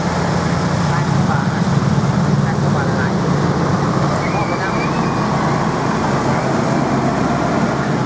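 Busy, chaotic road traffic at Vientiane's international bus station in Laos, a steady loud roar of engines and vehicles with no break, voices faintly mixed into the din.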